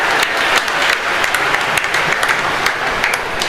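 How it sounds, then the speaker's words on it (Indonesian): A large congregation at a Jesuit priestly ordination Mass in a church applauds, a loud, dense and sustained roar of clapping filling the space. "Tepuk tangan."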